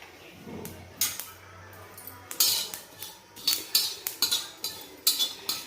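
Sesame seeds roasting on an iron tawa, stirred with a metal spoon that scrapes and clinks against the pan in quick irregular strokes over a faint background crackle.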